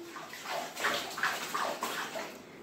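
Water splashing and sloshing out of a bath as a child plays, a few soft close splashes in quick succession at low volume.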